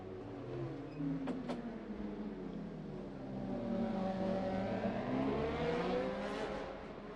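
A racing motorcycle powers out of the hairpin at the Macau Grand Prix street circuit, its engine note climbing and falling through gears as it accelerates, loud and close with a long rising whine.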